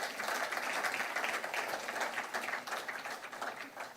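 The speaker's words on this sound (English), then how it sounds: "Can we have a round of applause for him?" A live audience applauds a former president of Ghana at a televised event, a continuous dense clapping from many hands that holds steady and tapers only slightly toward the end.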